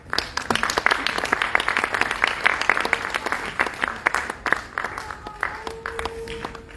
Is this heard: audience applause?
yes